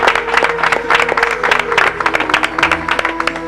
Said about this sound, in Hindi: ढेरों तालियां बजाएं